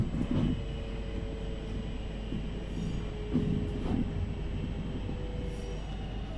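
A West Midlands Railway class 323 electric train pulls into Four Oaks station, heard from onboard as a steady rumble with rhythmic wheel clatter over rail joints and faint whines, no voices.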